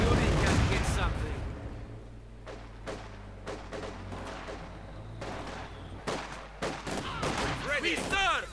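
Mortar fire and scattered gunshots crack repeatedly across a Company of Heroes 2 battle, a series of sharp booms and bursts over a busy backdrop of in-game combat noise.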